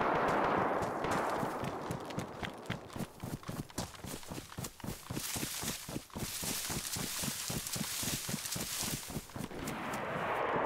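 Rapid, repeated gunfire from the survival video game DayZ, a dense run of sharp cracks and bursts sounding through the whole stretch at steady loudness, with no talk.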